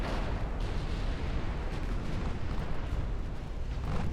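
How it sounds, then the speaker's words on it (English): A torpedo strikes a cruiser in a naval warship battle game, bringing a dense, rumbling explosion with a heavy low roar that stays thick and loud for several seconds. "torpedo hit for a... destroyed cruiser"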